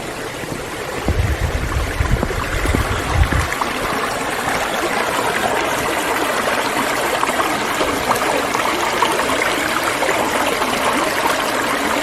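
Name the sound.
creek flowing under a bridge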